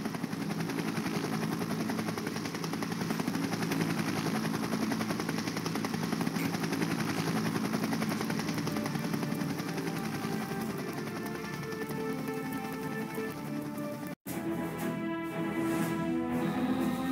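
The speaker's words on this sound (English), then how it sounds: "You just need to climb upon this box and jump into the Osprey for extraction." A V-22 Osprey in the Splinter Cell game thumps with a dense, steady rotor chop during an extraction, loud and continuous, with a brief cut before the beating resumes.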